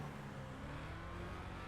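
Steady engine drone of a Vapid Hustler with an upgraded engine in GTA Online, a faint continuous hum with no speech over it.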